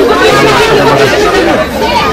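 Large festival crowd at Kalika Mata temple near Arnala fort on Dussehra, a dense, steady babble of many voices close around with no single voice standing out.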